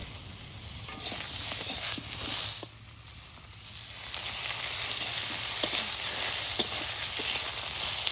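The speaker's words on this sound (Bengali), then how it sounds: "হালকা একটু লবণ দিয়ে ভাজবো বেগুন কটাকে" Continuous sizzling of salted eggplant pieces frying in a pan, with occasional soft clicks and scrapes, fairly close and steady throughout.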